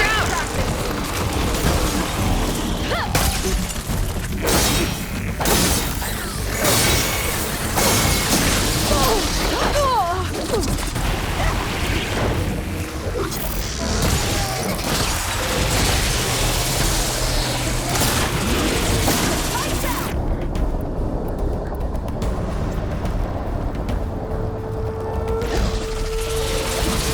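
Big explosion in the video game Horizon Forbidden West, set off by volatile crystals that detonate in one hit: loud, dense crashing and bursting game noise that fills the whole stretch, with a sudden drop in the upper range near the end.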